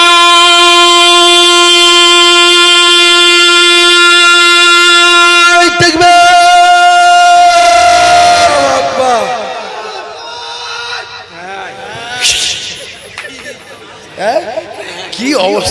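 A crowd at an outdoor Bangla religious sermon chants a takbir. First one long, loud, sustained collective tone, then a sharp break, then scattered voices and chatter.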